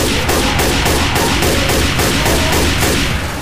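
Rapid, continuous automatic gunfire from a Left 4 Dead 2 firefight, dense rhythmic bursts of shots hammering steadily and loudly throughout with no pause.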